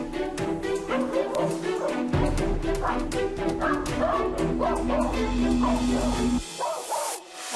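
A dog barks and yips repeatedly in quick bursts at close range over a loud, steady, music-like background bed that cuts out near the end.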